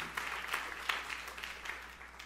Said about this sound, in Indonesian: Yang percaya tepuk tangan yang meriah untuk kemuliaan Tuhan.